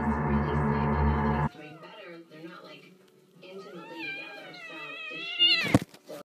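A cat meows in several rising and falling cries, close and fairly loud, after a burst of other noise at the start; a faint child-like voice may be present.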